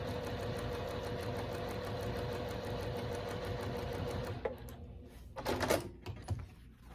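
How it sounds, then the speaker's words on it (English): A sewing machine with a quarter-inch seam foot stitching quilt pinwheel blocks runs with a steady, fast mechanical hum for about four and a half seconds, then stops, followed by a few close clicks and handling noises. "sew them together. Again, using my 1/4 inch seam foot to make sure I have a perfect seam."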